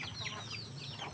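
Chickens on a farm clucking as they are fed guava, several soft, overlapping bird calls at close-to-moderate distance, fairly quiet overall.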